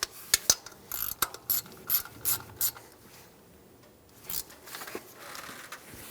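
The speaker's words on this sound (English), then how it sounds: "Once you have both bolts installed," Ratchet wrench snugging down bolts on a knock sensor of a 2003-2008 Honda Pilot, a run of close, loud clicking bursts in quick rhythm, then a pause and a couple of later ratchet strokes.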